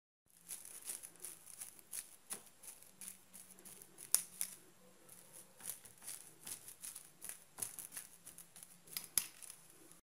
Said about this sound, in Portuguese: agora eu vou estar amassando com o garfo